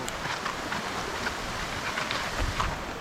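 Heavy rain begins falling outdoors at a resort as a steady, dense broadband hiss of drops. It carries on evenly for a few seconds with occasional louder patters.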